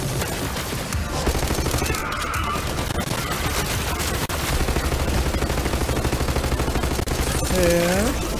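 Rapid, sustained gunfire from a weapon in the shooter game Borderlands 3, dense bursts of shots running nearly continuously and loud, with in-game effects layered over the firing.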